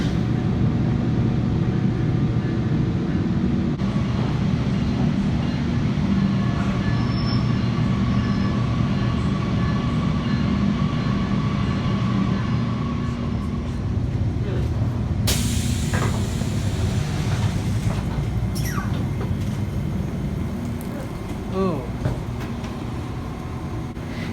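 A Metra Electric commuter train runs steadily along the rails on the South Chicago branch in Chicago, just leaving 63rd Street station, with a continuous rumble and rattling of wheels, a brief high squeal and hiss partway through.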